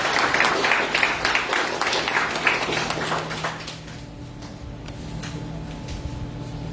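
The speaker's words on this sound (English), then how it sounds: "Let's give a round of applause." Audience applause at a Class of 2021 graduation ceremony, loud dense clapping for a few seconds that thins and fades out, leaving a quieter room with a steady hum.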